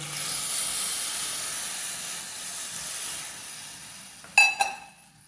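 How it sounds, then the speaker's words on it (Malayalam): Second coconut milk bubbles with cooked tapioca in a pan, giving off a steady steamy hiss that fades before two sharp metallic clinks near the end. "രണ്ടാം പാൽ ഒഴിച്ചു കൊടുത്തിട്ടുണ്ട് എന്നിട്ട് നന്നായി തിളച്ചിട്ടുണ്ട്"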